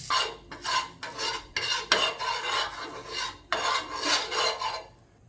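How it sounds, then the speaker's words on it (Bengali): A spoon scrapes and spreads butter over a pan for rava uttapam, rhythmic rasping strokes repeated about a dozen times, close and fairly loud. "এবার অল্প একটু বাটার নিয়ে চামচের সাহায্যে বা ব্রাশের সাহায্যে আপনারা প্যানটা গুলিয়ে নেবেন।"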